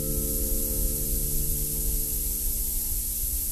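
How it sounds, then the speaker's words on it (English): Relief valves on a military dive chamber hiss steadily as the compressor cycles air in, a loud continuous rushing noise over a low mechanical hum with no pauses. "The sounds you are hearing are the relief valves cycling old air out of the chamber while the compressor cycles new air in."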